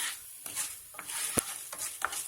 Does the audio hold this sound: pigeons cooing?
no